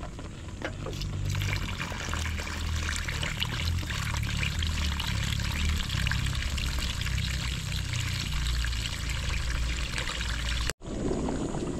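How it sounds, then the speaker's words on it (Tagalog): Water poured steadily into a pot of pochero already holding tomato sauce and vegetables, a continuous close splashing pour lasting about ten seconds before stopping abruptly, with no talk over it. "lagyan natin ng tubig ngayon"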